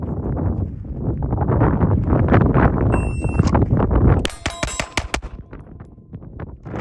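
Ported Springfield Echelon pistol fired in a quick string of sharp shots outdoors, with wind buffeting the microphone and a brief electronic beep midway.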